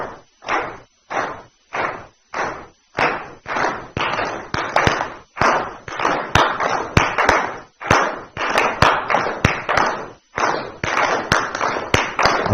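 A group claps hands together in a slow, steady beat, loud sharp claps in evenly spaced bursts with brief pauses, continuing for a long stretch in a room.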